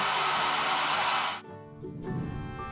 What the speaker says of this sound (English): It's a hair dryer.